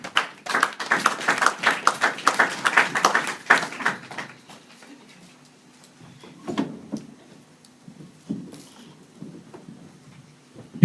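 A church congregation claps rhythmically to acclaim the Lord, quick loud applause for about four seconds that then fades into scattered lighter claps and taps, with a faint voice underneath.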